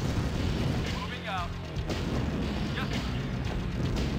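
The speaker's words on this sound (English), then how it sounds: "It's okay, we've got mass tank fire on the go." Massed tank cannon fire and explosions in Command and Conquer (1995) form a dense, continuous barrage of booms and bursts, with a voice talking over them throughout.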